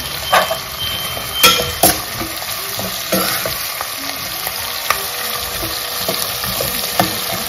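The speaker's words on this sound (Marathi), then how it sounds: "जिरे टाकले आणि मस्त ना लाल कांदा करून घ्यायचा फुल गॅस करून." Cumin seeds and red onion frying in oil on a full flame. A loud, steady sizzle runs throughout, broken by the clatter and scrape of a utensil stirring the pan.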